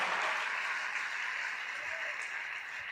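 A church congregation claps during a Telugu prayer meeting, a soft, even wash of many hands held at a fairly low level throughout, with a faint voice under it.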